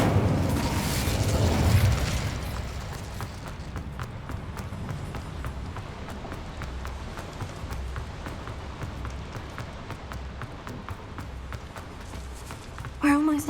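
Incendio fire spell cast in Hogwarts Legacy, a burst of whooshing flame at the start, then quieter game ambience with rhythmic footsteps and a voice speaking, ending on a short louder hit.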